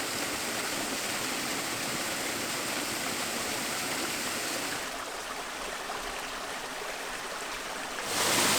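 A small waterfall at Pwll-y-Wrach rushes in a steady broadband roar, slightly softer in the middle before swelling louder again at the end.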